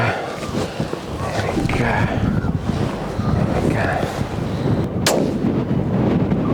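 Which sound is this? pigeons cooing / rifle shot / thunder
rifle shot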